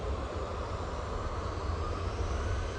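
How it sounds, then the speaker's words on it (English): An EasyJet Airbus A320-200 takes off at Manchester Airport, a fairly faint, steady jet engine roar heard from a distance across the whole clip. "Off to Catania with this A320-200 for Easyjet."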